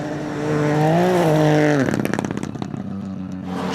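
A Ford Fiesta Rally 4 rally car at the International Rally of Whangarei, its engine revving up to a high steady note, then a sharp drop into crackling, popping deceleration with gravelly rattle.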